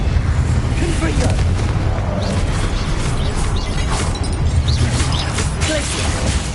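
Fiery Confringo spell blasts in Hogwarts Legacy combat, a dense, loud barrage of rumbling booms and crackling impacts layered over continuous battle noise with a voice in the mix.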